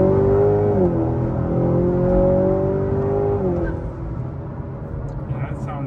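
A tuned 2019 Honda Accord 2.0T with a closed intake, making around 350 wheel horsepower, revs loudly close by, its steady drone climbing in pitch twice before settling.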